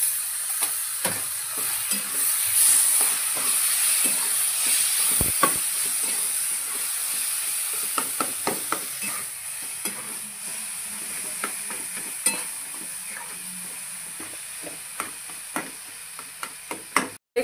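Eggplant for Maharashtrian-style bharit sizzles steadily in a hot pan while a spoon stirs and scrapes it, giving a constant frying hiss broken by irregular clicks and taps, with no talking.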